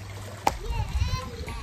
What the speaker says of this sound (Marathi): उडी मारला पाण्यात गेला.